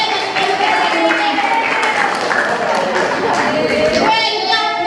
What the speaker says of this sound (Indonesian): wah, tepuk tangan semuanya